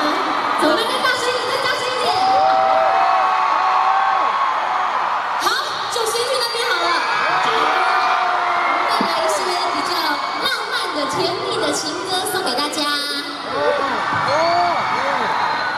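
An audience at a concert screaming and cheering loudly in waves, with dense crowd noise throughout and several louder bursts of high-pitched shrieks.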